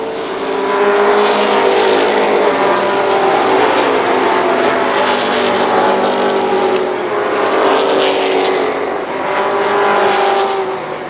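Super late model stock cars race at Columbus Motor Speedway in 1995, a loud continuous engine roar swelling and easing in waves as the pack circles the track.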